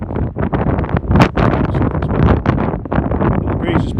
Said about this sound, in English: The Gale force wind has picked up.